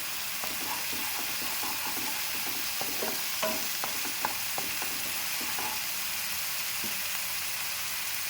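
Onion, grated coconut and green chillies sizzle steadily in hot oil in a pan, with a string of spoon-stirring scrapes and clinks over the constant frying hiss and no talking.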